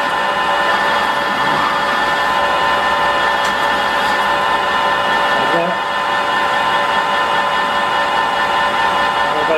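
A lathe cuts a metal part down to size with a steady, loud whining drone that holds evenly from start to finish, with a faint shift partway through.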